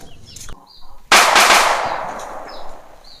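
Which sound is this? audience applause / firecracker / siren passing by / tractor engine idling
firecracker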